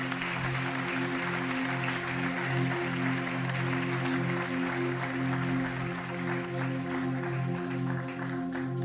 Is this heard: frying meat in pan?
no